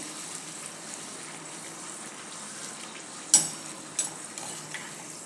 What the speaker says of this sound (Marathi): आता मी सगळ्या कडाकण्या अशाच तळून घेते